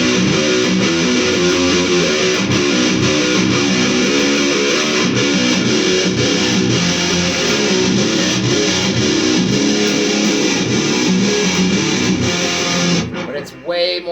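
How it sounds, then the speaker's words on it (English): Electric guitar through a Marshall MG solid-state 100-watt head with fuzz distortion, playing a dense, loud, continuous riff for about thirteen seconds before cutting off abruptly. "It has more of like a fuzz distortion."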